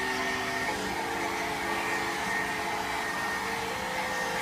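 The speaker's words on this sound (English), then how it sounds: "with my little mini blow dryer, which is my favorite thing ever, it's so much easier" A mini blow dryer blows on hair during a haircut, a steady whirring rush of air that runs unbroken throughout at close range.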